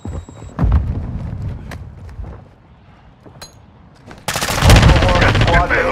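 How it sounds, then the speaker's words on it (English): Rapid automatic gunfire strikes a player in Call of Duty DMZ, loud bursts early on, a quieter stretch, then a dense, intense barrage of shots and impacts near the end. "You are taking effective fire."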